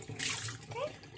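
A brief splash of running tap water as something is rinsed in a kitchen while baking dog cookies, close and short-lived, with a faint voice underneath.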